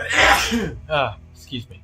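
A single sharp sneeze bursts out close up at the start during a livestream of the strategy game The Last Spell, followed by someone briefly speaking.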